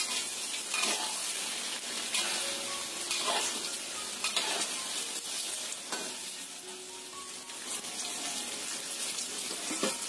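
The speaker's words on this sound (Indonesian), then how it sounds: "Kita goreng tahunya." Tofu fries in hot oil over medium heat, a steady bright sizzle with occasional louder crackles and stirring clatter, close and alone without talk.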